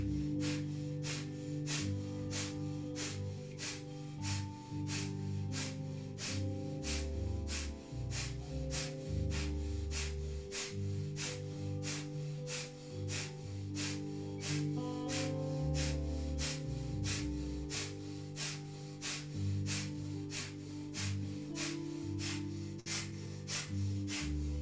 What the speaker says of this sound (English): Powerful breath of fire